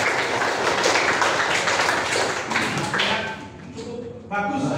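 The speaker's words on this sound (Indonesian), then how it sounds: "Tepuk tangan untuk teman kita" Students applauding a classmate in a hospitality lesson, a dense wash of clapping for about three seconds, loud and close, then dying down as voices take over.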